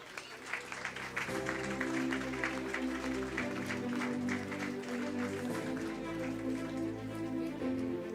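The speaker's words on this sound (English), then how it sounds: "Can we keep the applause going?" Sustained audience applause at a PGDM convocation ceremony, a steady patter of many hands continuing while musical tones play underneath, fairly even in loudness throughout.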